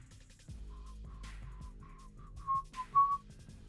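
A person whistles a short tune, a series of clear, sustained pitched notes rising and falling, fairly close and alone over faint background hum.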